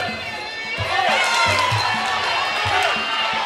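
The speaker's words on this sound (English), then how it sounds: "Crowd's getting behind them too. Crowd is into it" A crowd at an amateur women's boxing bout at Grand West cheers and shouts steadily, a dense roar of voices with a thumping beat underneath.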